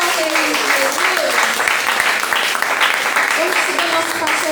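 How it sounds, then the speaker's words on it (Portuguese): Loud, continuous applause from a church congregation during a worship service, dense clapping with voices and cheering blended underneath throughout. "Aplauda o Senhor, tem fé em Jesus."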